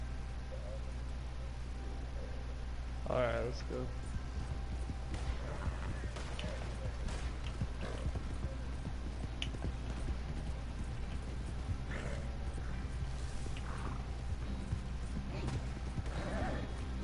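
A horse in the Red Dead Online game whinnies once early on, then hooves clip-clop in scattered beats over a steady low game rumble, with voices talking now and then.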